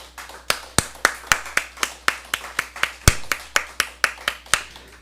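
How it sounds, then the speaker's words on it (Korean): Sharp, steady hand claps repeat in a quick rhythm for several seconds, a small church prayer-meeting group applauding nearby with no talking over it. "우리 하나님께 영광의 박수 올려드립니다"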